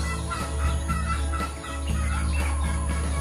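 Soft, low cooing bird calls repeat over a steady hum, with a brief dip in the middle before the calls resume.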